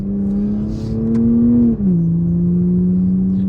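Toyota A90 Supra engine, a smooth, loud, steady engine tone up close that dips briefly in pitch at a gear shift and then settles, with no talking.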